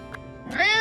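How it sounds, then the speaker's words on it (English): A playful cat meows twice close by, a short high cry followed by a longer, louder rising meow, with no one talking over it. "Yes, it is a playful, lovely cat."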